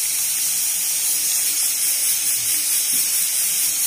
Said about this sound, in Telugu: దీంట్లోనే మనం కర్రీ లీవ్స్ యాడ్ చేయాలి.